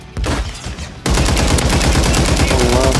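Loud automatic gunfire in a first-person shooter video game, a burst at first, then a continuous rapid stream of shots after a brief lull, close and dominant.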